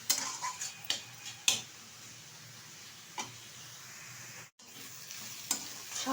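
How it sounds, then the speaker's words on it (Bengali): Greens (shak) with coconut frying in a pan, with a soft, quiet sizzle and a few sharp spatula scrapes and clicks as they are stirred, close by. "ভালোভাবে এবার নেড়ে চেড়ে নেব।"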